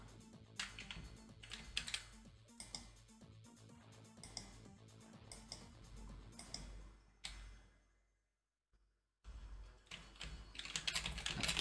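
Fast, uneven clatter of keys on a computer keyboard being pressed repeatedly, close and crisp, with a brief pause of near silence before the typing resumes.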